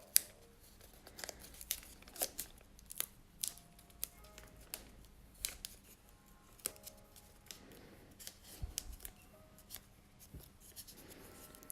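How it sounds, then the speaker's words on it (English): Tape being wrapped around an embroidery hoop to fill gaps before hooping fabric: close, irregular crinkling, rubbing and sharp tearing sounds scattered throughout, with no talk. "you're just going to take the tape and you're just going to wrap it around"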